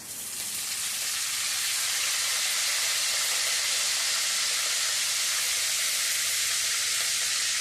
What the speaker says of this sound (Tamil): இதெல்லாம் ஒன்றா தாளித்து வைக்கலாம்